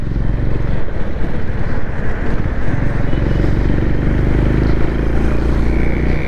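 Honda Highness CB350 DLX motorcycle engine cruising in fourth gear on a highway, a steady loud drone with dense low rumble and constant wind roar throughout.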